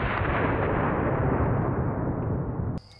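A Taurus Raging Hunter .357 Magnum revolver fires a single shot outdoors at produce targets. The blast is loud and booming and rolls out in a long echoing decay.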